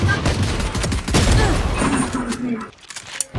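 Video game gunfire from a 1v3 round as Ghost, dense bursts of shots crackling close and loud through most of the stretch, thinning out near the end with a few isolated pops.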